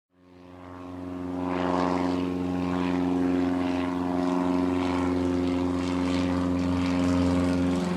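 A propeller airplane drones steadily and loudly after a quick rise at the start, a constant even engine hum with no talking.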